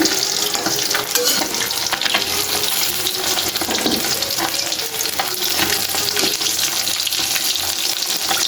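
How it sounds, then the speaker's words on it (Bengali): Puti fish frying in a pan at home, giving a loud, steady sizzle and crackle that runs unbroken for the whole stretch with no talk over it. "এই তো পুঠি মাছ ভাজতেছি"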